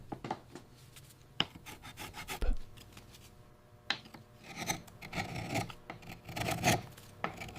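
A hand tool rasps and files along the edges of wooden flower petals carved from old planks, in short repeated scraping strokes with uneven rhythm, close and distinct, with no voices.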